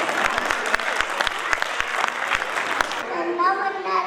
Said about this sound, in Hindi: नन्ही मुन्नी राही शानवी का जोरदार तालियों से स्वागत करें।